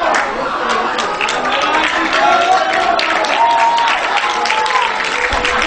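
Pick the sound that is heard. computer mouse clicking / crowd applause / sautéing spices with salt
crowd applause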